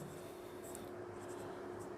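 Pen writing out a solution by hand on paper during a Class 12 integrals lesson, a soft, steady scratching that runs continuously and close for two seconds with no talk.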